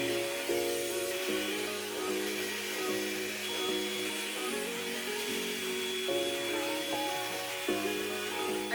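A Revlon One Step blow dry styler with its smoothing comb attachment whirs continuously at close range, its motor pitch shifting slightly as it is moved, with no talk over it.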